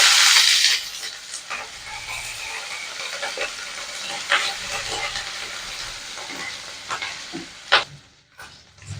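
Ginger paste, cumin and fried dried red chillies sizzle loudly in a wok, with a sharp burst as the paste hits the oil, then steady frying and intermittent scraping stirs.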